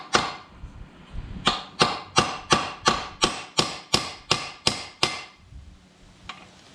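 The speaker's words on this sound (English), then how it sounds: "we're gonna try giving a little tappy tap tap with a hammer and a pin" Hammer tapping a pin drift to knock out a shifter bushing on a 1994 Ford Ranger: about a dozen sharp, evenly spaced metallic taps in a steady rhythm, close and loud, ending with one fainter tap after a pause.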